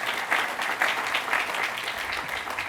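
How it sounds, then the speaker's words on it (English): Audience at a train station dedication ceremony claps continuously, a dense, even wash of hands from a modest crowd, fairly close and steady for the whole stretch with no voices on top. "Big round of applause to our supervisor,"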